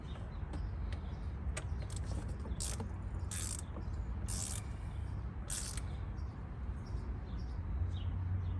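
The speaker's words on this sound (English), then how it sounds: "Start torquing it from the bottom." Torque wrench ratcheting in short bursts of clicks while tightening oil filter housing bolts on a car engine during a DIY repair, fairly close over a steady low background hum, with no talking.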